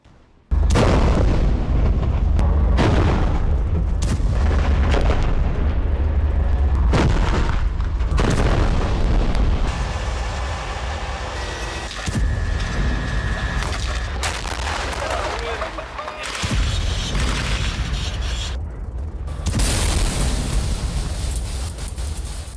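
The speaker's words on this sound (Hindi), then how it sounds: "बड़े बड़े टैंक कुछ इसी तरह हमास के ठिकानों पर गोले बरसा रहे हैं" Large tanks fire shells at Hamas positions in Gaza: a string of loud, heavy booms and cracking blasts erupts in rapid succession, echoing with a rumbling tail, and a voice is heard at times.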